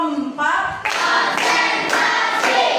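A group of mothers at a coaching session claps in counted bursts, each burst a quick cluster of claps followed by a short pause and repeated several times, with voices mixed in.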